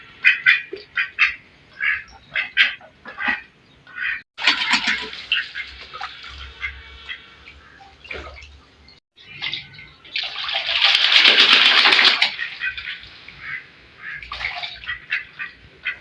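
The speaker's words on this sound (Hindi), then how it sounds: "वाइट वाली बतख तो इतनी एक्साइटमेंट में छंटे मारी थी, मैं पूरी की पूरी गीली हो गई थी" Ducks, including a white one, quack in rapid repeated bursts at close range while water splashes loudly in between, with a long splashing flurry near the end.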